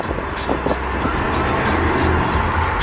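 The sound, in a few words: BMW B58 car engine and exhaust with downpipe while driving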